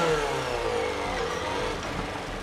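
A manual-clutch motorcycle engine revs to around 5000–6000 rpm and pulls away as the clutch is released, a short, moderately loud rising and falling engine note heard alone.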